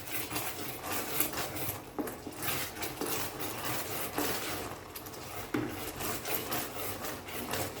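A spoon or spatula scrapes the sides of a pan as a thickening sweet is stirred, making repeated rough rasping strokes with occasional knocks against the metal, close and continuous.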